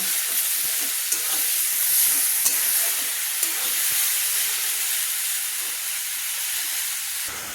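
A steady sizzle of shredded cabbage frying in a hot pan, with occasional light clicks of stirring, close and continuous.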